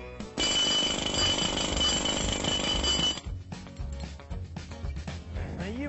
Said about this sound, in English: what's he doing messing with the jackhammer?